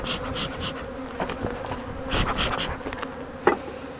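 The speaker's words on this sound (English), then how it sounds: "These bees are mean." Honey bees buzz thickly and close around a beekeeper marking the queen, a dense insect drone with individual bees swelling past the microphone and a brief knock near the end.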